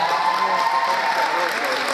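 Audience applause at a Hungarian secondary school show for new first-years, the Mohács Kisfaludy Károly school's 2021 Szecskaszínó, rewarding a class; dense, steady clapping from a crowd throughout.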